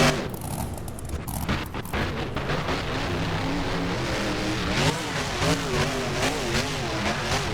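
The El Toro Loco monster truck in BeamNG roars over racing jumps, its engine droning loudly and steadily with wavering revs rising and falling throughout.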